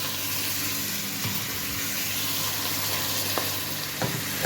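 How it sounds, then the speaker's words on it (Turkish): Vegetables sautéing in vegetable oil in a pan, a dense, steady sizzle and crackle throughout with a couple of brief scraping stirs near the end, close and loud, no talking. "sıvı yağında kavuruyorum"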